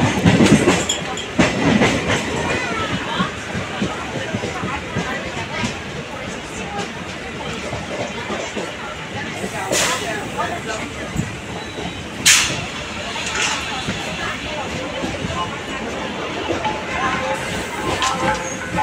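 Moving train out of Howrah, heard from inside a carriage: a steady rumble with wheel clatter throughout, a few sharp metallic clanks and hisses, and people talking in the background.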